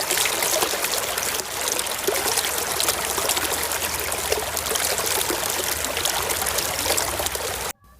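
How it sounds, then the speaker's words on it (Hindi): Water trickles and splashes steadily as a dirty toy is rinsed and washed, a continuous close pouring sound that runs for several seconds and then stops abruptly. "चलो इस पानी में धोते हैं।"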